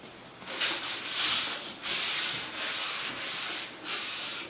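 Planters being hand-sanded with a sanding pad, a series of about six rhythmic hissing rubbing strokes, close and fairly loud, each sweep separated by a brief pause, no talking.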